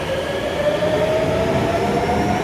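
A Japanese subway train at Susukino station in Sapporo rumbles steadily and loudly nearby, with a faint high wheel squeal gliding over the continuous roar.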